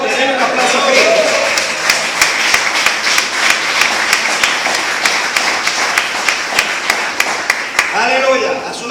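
A church congregation claps during a sermon, with steady rhythmic beats rising through a wash of applause for most of the stretch, while a preacher's voice can be heard at the start and end.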